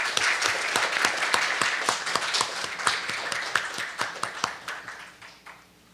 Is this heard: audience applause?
yes